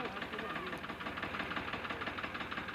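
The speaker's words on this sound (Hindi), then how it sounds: "ट्रैक्टर धुआं भी दे रहा है और ट्रैक्टर 2 सिलेंडर चल रहा है" Diesel tractor engine running rough on two cylinders while smoking and labouring, a steady close knocking throb with rhythmic pulses throughout.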